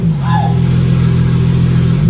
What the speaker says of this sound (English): I guess I could do a quick little rev if you guys want to hear it.